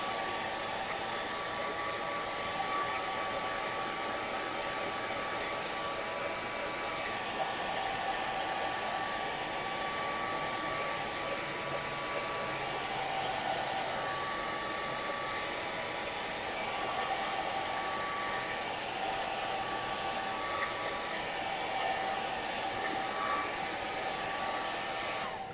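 A hair dryer blows steadily and loudly on a gelli plate print, a continuous close whoosh with no pauses and no talk.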